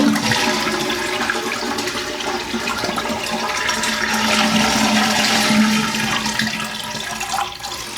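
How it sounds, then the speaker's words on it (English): A household toilet being flushed, a loud, close rush of water that swells and churns for the whole stretch before easing slightly at the end, with no talking. "and when we flush this toilet,"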